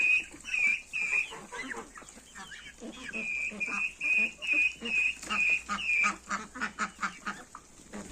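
Young chicks cluck and squawk close by in a busy, irregular chorus, with some higher calls in repeated bursts and no talking.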